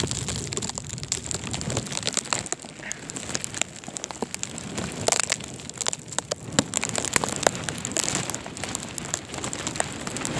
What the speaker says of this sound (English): Wow, this snow is hitting real hard.